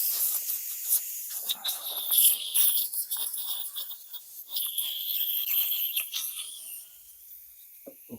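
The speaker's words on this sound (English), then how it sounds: "I'm pulling the trigger and blasting some air through here" Compressed air from a trigger blow gun hisses in bursts through a part on a junk lawn mower, a sharp high airy spray rising and fading irregularly, then tapering off near the end.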